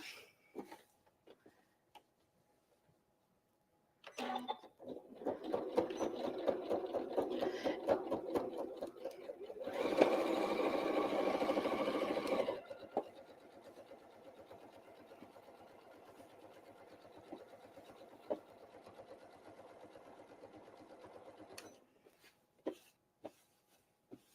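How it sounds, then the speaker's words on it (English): Sewing machine stitching down the pocket on an old-fashioned apron, a steady rapid mechanical run lasting most of the clip, loudest in the middle stretch, then quieter, with brief clicks at start and end. "I'll just go ahead and sew down this other pocket while Ruby's doing that."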